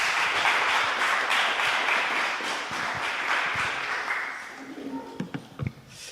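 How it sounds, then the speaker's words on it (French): An audience at a talk on video game music applauds a game composer, with dense, sustained clapping that fades toward the end, leaving a few scattered claps and thumps. "Je vous demande de l'applaudir."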